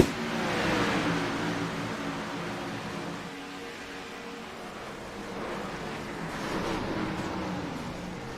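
Race cars roar past at Dover during the First State 200, a broad, sustained engine rush that swells, dips slightly mid-way and builds again.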